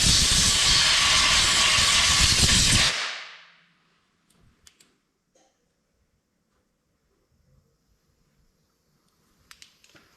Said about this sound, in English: I'll grab the air hose and blow that out